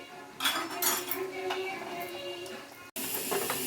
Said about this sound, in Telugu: ఇప్పుడు మళ్ళీ దీన్ని కలపాలి బాగా కలిపి మళ్ళీ మూత పెట్టాలి